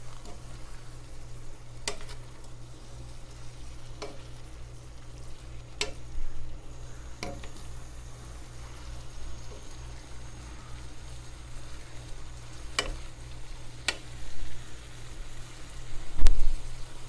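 Homemade udon noodles cook in a pan that is running low on water while being prepared for Japanese curry. A soft, steady sizzle and bubbling sits under a low hum, with a few faint clicks and taps.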